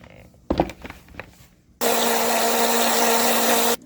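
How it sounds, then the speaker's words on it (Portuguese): A kitchen blender whirs steadily for about two seconds while mixing paçoca into homemade cake batter, loud and close, after a few light knocks and taps. "vou bater um pouquinho no liquidificador só para misturar"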